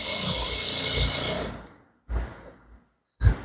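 A sewing machine runs a steady, close whirring burst while stitching fabric for a danshiki, then stops, followed by two short separate bursts of stitching.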